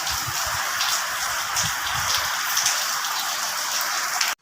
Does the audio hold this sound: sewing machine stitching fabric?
no